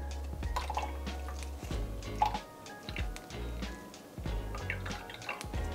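Fresh coconut milk dripping from squeezed grated coconut, a close series of irregular small drips and trickles over a low background hum.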